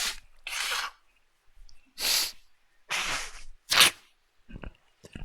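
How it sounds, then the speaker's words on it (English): A person sneezes in a close, loud series of explosive bursts spaced a second or so apart, with sharp breaths and sniffs between them, no talking. "I feel like I need to sneeze"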